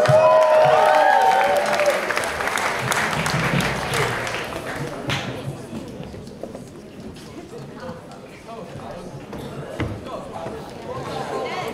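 Audience applause and cheering at a school rock concert, a dense loud wash of clapping in the opening seconds that thins and fades to scattered claps and crowd murmur.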